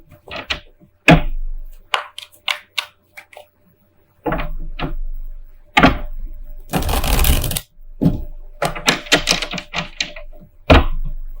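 Tarot cards are shuffled and riffled in quick, crisp bursts, close by, with several clattering pauses and one longer rushing riffle in the middle.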